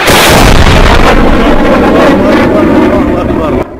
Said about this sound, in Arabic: قصف بالطيران الحربي على قرية أرزي بريف حماة